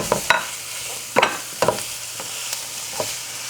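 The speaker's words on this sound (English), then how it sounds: "Now it's a time for adding the ground beef and start sauteing this." Ground beef being stirred in a hot pan for Persian stuffed grape leaves, with a few scraping stir strokes over a faint sizzle, each stroke short and close.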